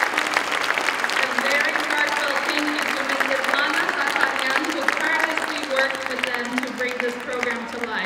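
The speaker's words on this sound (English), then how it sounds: "Let's give another big round of applause to our incredibly talented students for their outstanding performance tonight." A school concert audience claps for the student performers, with steady, moderately loud applause while voices and tonal sounds carry on over and under it throughout.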